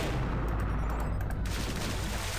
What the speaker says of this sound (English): Oh, he has really far cannons.